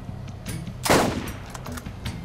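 Gunfire in the video game Borderlands: a single loud blast with a rough, decaying tail near the middle, followed by fainter scattered pops.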